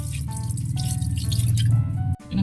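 Water from a riverside source is poured into a cooking pot of pork ribs for nilaga, making a steady loud splashing pour that stops abruptly near the end.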